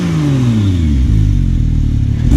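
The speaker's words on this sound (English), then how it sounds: "give the Porsche a little rev" A Porsche 911 Turbo S being revved at a car meet, a loud, close engine note whose pitch drops as the revs fall and then settles into a rough, steady rumble.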